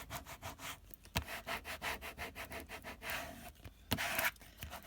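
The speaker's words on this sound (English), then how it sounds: "and just burnish down the vinyl on top of the plaque." A squeegee burnishing self-adhesive vinyl, still under transfer tape, onto a plaque: a close series of quick rhythmic rubbing strokes, soft scraping swipes repeated back and forth, with a couple of sharper scuffs.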